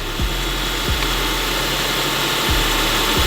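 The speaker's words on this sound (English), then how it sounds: "we've got another exhaust leak right up in there" A Lexus car engine with an exhaust leak runs close up with a steady broadband hiss and rumble, punctuated by a few sharp low puffs and ticks at irregular intervals.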